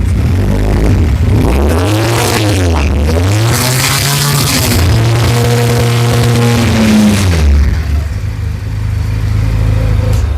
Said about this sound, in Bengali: ভাইয়া কিন্তু অলরেডি বাইকটা স্টার্ট করে দিয়েছে আমরা একটু সাউন্ডটা শুনবো